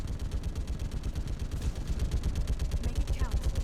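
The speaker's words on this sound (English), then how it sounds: "This turret sound is annoying." Turret gunfire in Mass Effect 3 rattles continuously as rapid automatic bursts, steady and fairly loud throughout with battle noise around it.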